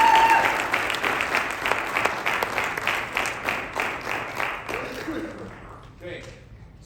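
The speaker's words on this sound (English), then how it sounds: "let's give them a round of applause" Applause from an audience at a high school football signing day as Division 1 players sign, steady dense clapping that gradually thins and fades, with a voice speaking briefly at the start.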